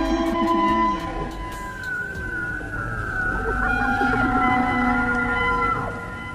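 A recreated cry of the Ozark Howler, the legendary beast of Missouri's Ozark Mountains, rises and wavers in long drawn-out howls that hold steadily loud for about six seconds with no one speaking.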